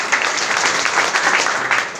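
A short burst of audience applause at a gathering, with dense, steady clapping at moderate loudness throughout.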